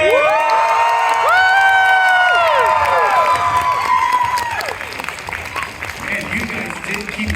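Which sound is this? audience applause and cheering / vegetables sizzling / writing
audience applause and cheering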